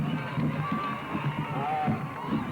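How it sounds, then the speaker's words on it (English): A crowd of Rockchapel supporters cheers and roars wildly as the cup is presented after an intermediate football final, a dense and steady din with scattered shouts and whistles throughout. "The Rockchapel crowd are gone wild."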